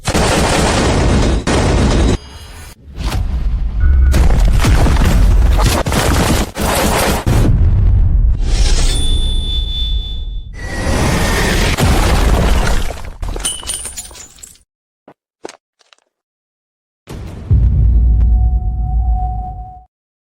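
Gunfire in a martial-arts film scene: loud, dense volleys of shots and crashing impacts with shattering, broken by short pauses and near-silence, then a final burst.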